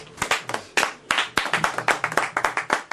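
A church congregation claps in a loose, uneven burst of sharp hand claps that keeps going steadily, close and fairly loud, with a few faint voices underneath.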